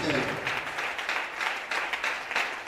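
A church congregation applauds and cheers during a service, a dense, steady wash of many hands clapping that carries on throughout.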